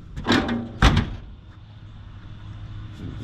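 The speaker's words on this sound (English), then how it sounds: "But let's shut this hood." A car hood swings down and shuts with a solid, close thud, a softer knock just before it, then a low hum lingers.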